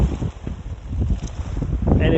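Gusty wind blowing outdoors by an inflatable 67-inch splash pad pool, heavy buffeting rumble on the microphone in uneven surges, with faint talk underneath.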